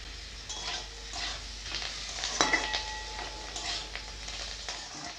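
Spice paste with peanuts and coriander leaves sizzling in a wok while being stirred, with steady frying crackle and scraping strokes against the metal, one sharper clink midway, no talking.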